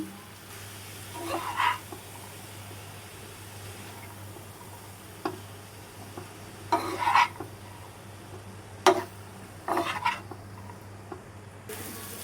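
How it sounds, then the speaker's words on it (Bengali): Dheki shak fern greens frying in a pan, with a faint steady hiss under occasional light scrapes and clinks of a spatula stirring against the metal, several separate bursts spread across a quiet background. "শাকটা আমি বেশ কিছুক্ষণ ভেজে ভেজে এভাবে করেছি"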